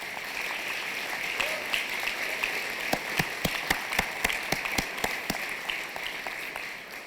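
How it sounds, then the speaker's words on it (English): Audience applause at a celebration luncheon in Cleveland, a soft bed of crowd clapping with a run of sharp, close individual claps standing out in the middle before thinning toward the end. "Baptiste, Gabrielle, Allen, Robert Solomon, please stand so we can give you a round of applause"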